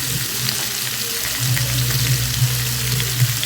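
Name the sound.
frying potato cubes in a pan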